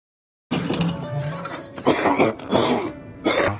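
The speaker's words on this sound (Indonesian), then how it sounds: "mendengar suara pria yang batuk-batuk di atas ranjang" A man lying in bed coughs repeatedly in a rough, throaty series of hacks, close and fairly loud, after a moment of silence.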